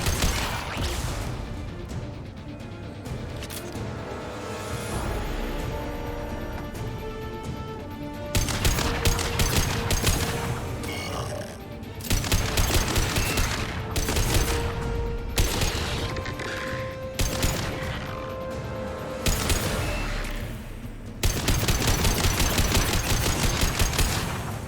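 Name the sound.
heavy weapon gunfire in the video game Mass Effect 2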